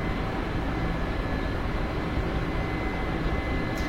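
Steady, loud helicopter engine and rotor drone inside a flight simulator game just after takeoff while accelerating, a continuous broadband roar with no talking over it.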